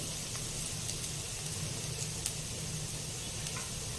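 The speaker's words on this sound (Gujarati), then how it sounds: "થોડું સાંતળી લઈશું આ સંતળાઈ જાય એટલે આપણે તેમાં વેજીટેબલ ઉમેરી દઈશું" Onions sautéing in a pan for veg Hakka noodles, a faint steady sizzle with small crackles and pops, heard alone and at low level.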